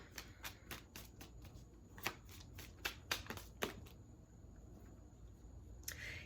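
Tarot cards shuffled by hand, a quick run of soft riffling clicks in an uneven rhythm, close but quiet over a faint hiss, then a lull, with no talking.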